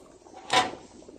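A pot lid is lifted off a simmering pot of Northern Thai khanom jeen nam ngiao broth, giving one short, sharp clink. A faint kitchen hum sits underneath, and no one speaks.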